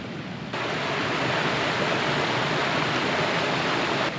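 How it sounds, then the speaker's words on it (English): Small waterfalls tumbling along a stream in a remote Welsh valley, a steady broadband rush of water that stays close and constant throughout, with no voices. "We've got those little waterfalls there."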